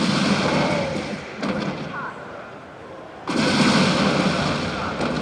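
A Terran Banshee's area attack strikes clustered Marines in a StarCraft 2 battle: dense, loud, continuous explosive gunfire, easing off in the middle before surging back at full strength.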